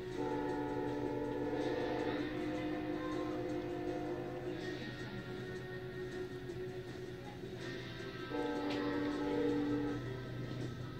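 A long freight train rumbles steadily past at moderate distance, with horn tones sounding in the mix over a continuous low roar.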